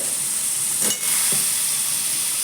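Diced potatoes hit a hot pan with a steady, fairly loud hiss of sizzling oil and a brief burst of crackle as they go in, then the frying settles back to an even sizzle.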